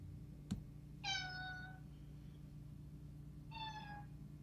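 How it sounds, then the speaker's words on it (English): A cat lets out two distinct meows, the first drawn out and the second shorter, close by over a low steady electrical hum, with no talking. "This cat needs to be quiet."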